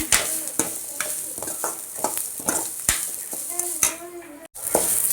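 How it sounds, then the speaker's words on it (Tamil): Ground spice masala sautéing over low heat in a pan for traditional rasam, stirred continuously so it does not stick; a close, constant sizzle with repeated spoon scrapes and taps against the metal every half second or so. "இதை சிம்மில் போட்டு நம்ம ஒரு 5 நிமிஷத்துக்கு நல்லா வதக்கி விடணும். அடியில் பிடிக்காத மாதிரி கிண்டிக்கிட்டே இருங்க."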